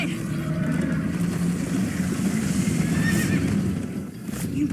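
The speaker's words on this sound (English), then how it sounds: "First time on a horse here." A horse in the Minecraft: Story Mode video game neighs with a drawn-out whinny while hoofbeats clatter steadily beneath, set against a dense rumbling chase-scene background.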